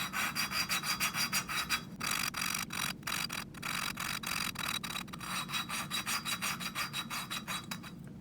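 New valves being lapped with grinding compound in a Honda ATC 200X engine head: a fast, steady run of gritty back-and-forth rubbing strokes, close but quiet, with no talking.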